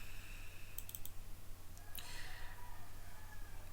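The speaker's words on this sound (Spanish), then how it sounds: "y le voy a dar doble clic." A computer mouse is clicked, a few sharp quick clicks including a double-click, close and quiet over a steady low hum.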